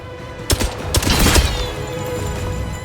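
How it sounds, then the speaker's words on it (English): Rapid bursts of gunfire in the video game 007 First Light, several loud shots close together followed by a fading echo. "Not gonna lie, gunfire feels good."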